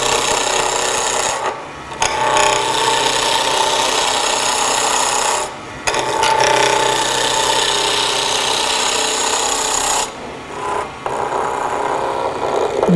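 A gouge cuts a wooden spindle on a wood lathe, turning a snowman shape, as a loud continuous rasping scrape with short pauses where the tool lifts off the wood.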